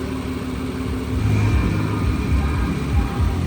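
A 2008 Nissan Altima with a 3.5L engine idles steadily, then rises into several short revs that climb and fall back, heard close and fairly loud.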